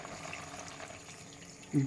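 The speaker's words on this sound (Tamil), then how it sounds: "நம்மளுக்கு தேவையான தண்ணி இதில் ஊற்றிக்கலாம்." Water poured into a cooking pot while making chicken kulambu, a soft steady trickle with a louder splash right at the end, quiet and close.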